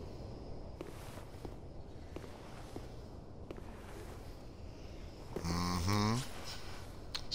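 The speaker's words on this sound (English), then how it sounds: "I can hear stuff breathing all over the place." Creatures in the video game Dark Souls III breathe heavily, producing slow, low, snore-like rasps amid footsteps, followed by a louder, harsher burst near the end.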